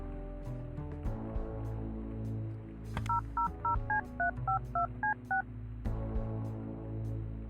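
A phone keypad dials a number in the video game Kathy Rain 2, a run of about ten short dual-tone beeps in quick rhythm, set over a low steady background hum with a few soft clicks before and after.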